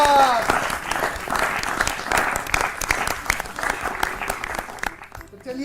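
Loud applause from a children's classroom audience for a correct quiz answer, dense and sustained for about five seconds before dropping away quickly at the end, with some voices mixed in.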